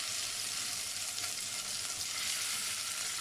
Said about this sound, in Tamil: இப்போ நம்ம வச்சுருக்க மீனை இதோட சேர்த்துடலாம்.